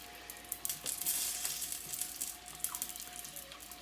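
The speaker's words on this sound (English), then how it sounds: "there's a lot more dripping coming through" Beef or veal stock drips and trickles through a strainer with faint, irregular liquid patter and a thin sizzle-like wash, quiet and close, with no talking.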